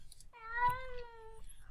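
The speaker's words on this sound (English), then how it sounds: "I hear a kitty cat." A cat in the video game Minecraft gives a single clear, faint meow lasting about a second, over low background rumble.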